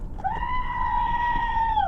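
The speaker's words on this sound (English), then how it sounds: "And there's the goat." A goat scream sound effect played from a button: one loud, sustained bleating cry lasting under two seconds, rising at the start and falling off at the end.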